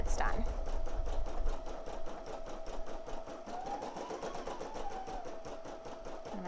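A Brother PE800 embroidery machine stitches lettering, a close, steady rapid ticking hum with a faint tonal whine, while a person talks over it.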